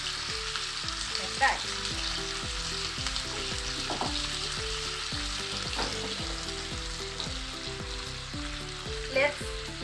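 Meat shallow frying in a pan for a chicken stew, a steady dense sizzle filling the whole stretch with faint clinks and stirring, close and continuous, with a brief word spoken near the end.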